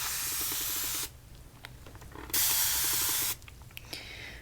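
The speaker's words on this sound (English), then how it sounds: "just do a little rinsey rinse on my hands here" Water from a salon shampoo sink tap rushes in two loud, steady bursts as hands are rinsed, with quieter dripping and handling sounds between them, close and without talk.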